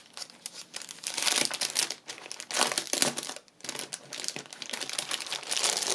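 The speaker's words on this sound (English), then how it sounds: "sorry about the horrible crinkly noises" Loud, close crinkling and crackling of plastic-backed journal stickers being handled, continuous with short dips, no talk.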